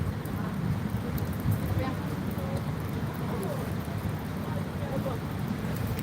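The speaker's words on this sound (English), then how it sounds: "It's a little bit rainy, but it's not too bad." Rain falls outdoors as a dense, steady wash of noise. Wind rumble and low buffeting run under it the whole way, and faint scattered sounds sit in the background.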